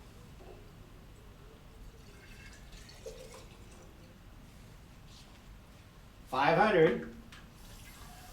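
Water poured into a mayonnaise jar: a brief, splashy gush of under a second near the end, following quiet talk and soft background sounds.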